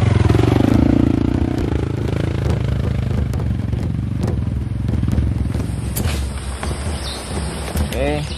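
A motorcycle rides along a tropical forest trail, its engine rumbling steadily close by with clattering and scraping over rough ground while people talk over it.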